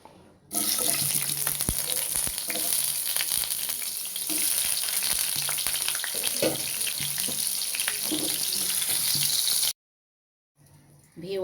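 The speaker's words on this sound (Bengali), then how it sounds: "এখন দিয়ে দিব মিষ্টি কুমড়া" Pieces of sweet pumpkin frying in hot oil in a kitchen pan, a loud, steady sizzle that starts abruptly and runs unbroken for about nine seconds before cutting off.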